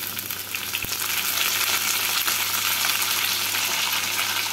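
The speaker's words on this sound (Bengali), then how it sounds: "আর ঝিঙেগুলোকে আলুর সাথে 2 মিনিট মতো ভেজে নেব" Ridge gourd and potatoes fry in a pan for a Bengali doodh jhinge dish, giving a steady, close, continuous sizzle with a low hum underneath and no talking.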